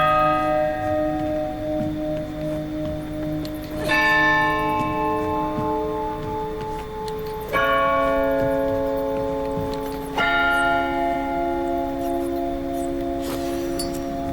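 Church bell in the video game Tormented Souls 2, set in a convent, struck three times at spaced intervals; each loud clang rings out with a long, shimmering decay over a steady low ambient drone.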